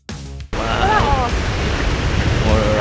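Pacific ocean surf at Cayucos beach near Morro Bay on the California coast, a steady loud wash of breaking waves with wind buffeting the microphone after a brief opening sound.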